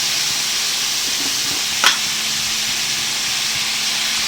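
Red chili powder sizzles in hot oil in a frying pan, a steady soft hiss throughout with a brief sharper spit partway through, no talking.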